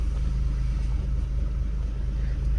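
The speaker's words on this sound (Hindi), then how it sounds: "इंजन का साउंड थोड़ा स्टेबल है" A twin-turbo cruiser's engine hums steadily during a test drive, a loud, constant low rumble with faint cabin noise and no clear speech.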